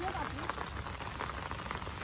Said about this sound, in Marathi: सकाळपासून पाऊस कंटिन्यू चालू आहे, थांबतच नाहीये आणि मस्त पडतंय.